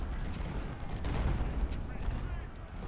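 Artillery fire rumbles nonstop in Ultimate General: Civil War during the Battle of Fredericksburg, with dense overlapping booms forming a loud, heavy barrage from start to finish.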